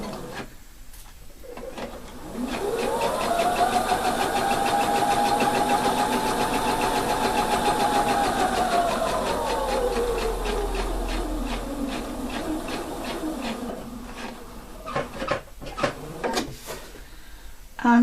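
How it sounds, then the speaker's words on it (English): A sewing machine stitching a seam with lining, motor whirring up to speed, holding a steady buzzing hum with rapid needle clatter, then winding down to a stop near the end. "I'm only stitching right now down here to that point"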